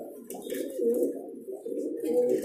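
Pigeons in a Delhi pigeon shop, white pigeons among them, coo close by in soft, repeated throaty phrases that overlap almost continuously.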